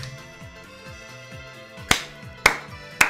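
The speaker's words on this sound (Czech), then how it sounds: "Tleskám, reálně." Three sharp, loud claps stand out over a background of music with falling tones, arriving as separate slaps about half a second apart toward the end.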